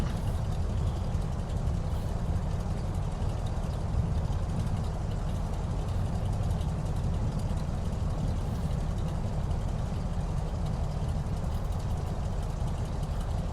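Waco YMF-5 biplane's radial engine idling as it taxis in a flight simulator, a steady, close, low droning rumble that holds unchanged throughout with no voices.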